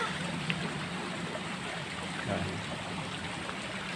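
A river in Silang, Biluso flows in a soft, steady wash of moving water, faint and continuous with light trickling detail, while a voice briefly speaks.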